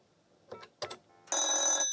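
An old landline telephone on an extension line rings with a bright, buzzy electromechanical bell burst, close and clear, after a couple of faint handling clicks.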